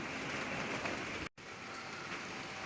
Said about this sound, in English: But it's raining, it's a little chilly